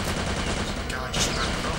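Gunfire aimed at Nazi soldiers in the World War II shooter Ghosts of War, dense and continuous through the whole moment, with a voice mixed in.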